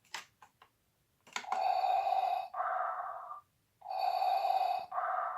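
A Darth Vader toy plays its electronic breathing effect: a few light button clicks, then a loud, close, mechanical inhale-exhale pair, a short pause and a second identical breath cycle.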